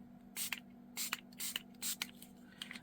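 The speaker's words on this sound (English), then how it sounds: "one of the other techniques that they say to use is to spray" Water spritzed from a spray bottle onto paper for a Brusho watercolour technique, several short hissing bursts in an uneven rhythm, close and clear over a steady low hum.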